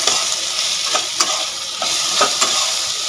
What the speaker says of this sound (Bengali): আলুটা ভাজা ভাজা হয়ে এসেছে